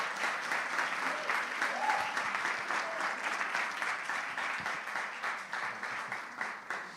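A church congregation at a worship service applauds, a steady, fairly soft wash of clapping from many people, heard at a slight distance with faint voices mixed in.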